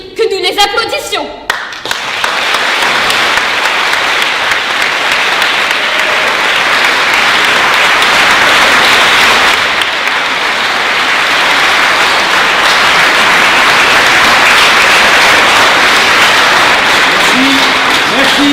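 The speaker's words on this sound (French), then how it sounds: "j'aimerais, s'il vous plaît, pour ces victimes, que nous fassions du bruit, que nous les applaudissions." A long, loud burst of audience applause honoring victims at a Tours Éloquence mock trial of de Gaulle, beginning abruptly after a short noise and holding as a dense, sustained roar of clapping from a large crowd.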